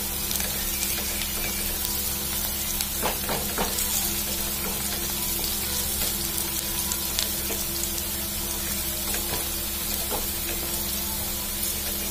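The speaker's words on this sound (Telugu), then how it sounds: "ఆనియన్ కొంచెం రెడ్ కలర్ వచ్చేంత వరకు మీడియం ఫ్లేమ్లో ఉంచుకుంటే సరిపోతుంది" Onions frying in oil on a medium flame for chicken fry, a continuous dense sizzle with scattered crackles and light stirring, close and steady with no speech.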